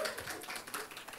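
Audience at a live concert giving a brief round of applause: dense, fairly faint patter of many hands clapping at once, steady for just over a second with no voices.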